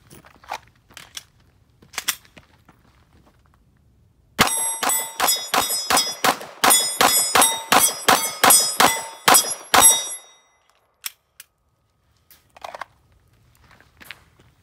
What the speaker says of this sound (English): shoot 15 rounds through this